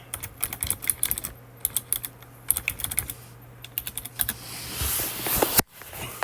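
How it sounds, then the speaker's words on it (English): Rapid typing on a computer keyboard, close and clear, with irregular bursts of key clicks for several seconds before a louder rustling shift at the end. "Let me type this in."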